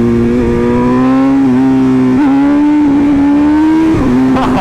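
A Lamborghini SVJ driving fast over hills, its engine droning loud and close in a sustained steady tone with slight pitch dips and rises as it crests each rise.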